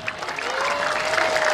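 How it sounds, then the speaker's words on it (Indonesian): Crowd applause at a Balinese Cendrawasih dance performance by a gamelan troupe, a steady wash of many hands clapping with a faint held tone running underneath. "ayo kita berikan tepuk tangan yang meriah"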